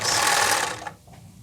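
A blind hem sewing machine stitching through fabric gives a fast, close, whirring mechanical clatter for nearly a second, then stops and falls almost silent; no one speaks.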